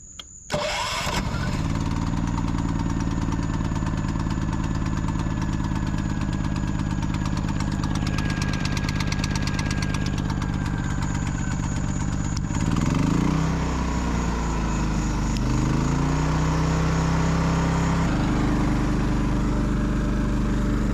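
A generator at a camper campsite during dry camping, run for a couple of hours to recharge the batteries. It starts up with a brief rough burst, then runs loud and steady throughout, with a slight shift in its hum partway through and no talking.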